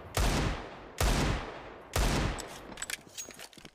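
Gunfire in the video game CS:GO during a mousesports vs. G2 match on the map Nuke, three loud booming shots about a second apart followed by quieter scattered clicks and pings.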